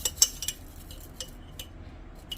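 Metal cutlery clinks and rattles in a few sharp, close taps as a tablespoon is picked out from among the other utensils, then quieter scattered clicks follow.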